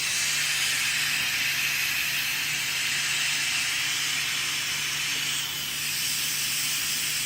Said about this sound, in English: I still have the steam on here. I have to quick release it.